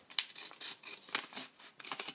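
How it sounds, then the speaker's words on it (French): Scissors snip through paper while an origami horse is being made, a quick series of crisp close cuts with short pauses between them, heard alone with no talking. "on va prendre nos ciseaux, et on va le découper bien droit si possible, pour former des pattes égales."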